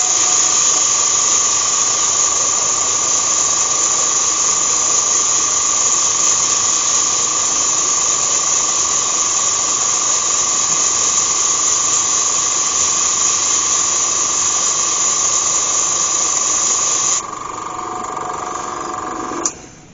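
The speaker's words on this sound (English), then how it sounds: "I'm going to go in with the airbrush, and I want to spray in the bottom of there" A steady high airbrush hiss runs for nearly twenty seconds while Hampshire Sheen Flame wood dye is sprayed into the bottom of a turned ash bowl. It drops slightly, then cuts off at the end.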